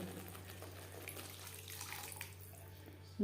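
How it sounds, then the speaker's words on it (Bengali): Water is poured from a vessel into fried masala for an egg curry, a faint, steady gushing splash heard close up and continuing without a break. "পাঁচ ছ মিনিট মশলা বেশ ভালো করে কষিয়ে নেওয়ার পর দিয়ে দেবো জল"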